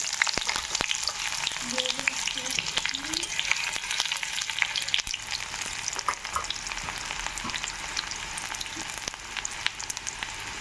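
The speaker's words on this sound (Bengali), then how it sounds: "দিয়ে দিব পেঁয়াজ কুচি" Chopped onions fry in hot oil in a pan, a dense, steady crackling sizzle with frequent sharp pops and stirring scrapes, close and fairly loud throughout.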